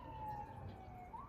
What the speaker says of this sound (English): we're gonna wait for the police siren